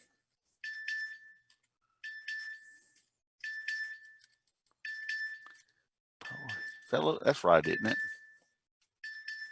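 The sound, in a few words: phone ringing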